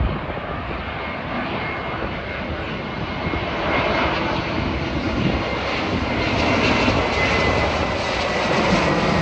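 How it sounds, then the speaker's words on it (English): A JetBlue Airbus A321 jet airliner flies overhead, its engine roar loud, broad and steady throughout, swelling slightly toward the end, with no talk. "Here's a JetBlue Airbus 321 from St. Martin, Dutch Antilles."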